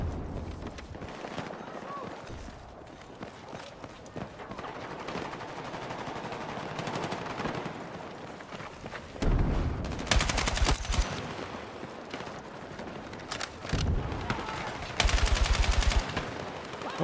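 Automatic gunfire in the video game Battlefield 6: scattered shots through the first half, then louder rattling machine-gun bursts later on, with someone talking throughout.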